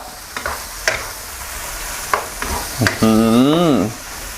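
Pork cartilage stir-fried in a pan with coarsely pounded black pepper, seasoning sauce, oyster sauce and sugar: a steady sizzle with sharp spatula scrapes and clacks, ending in a brief rising and falling tonal squeal.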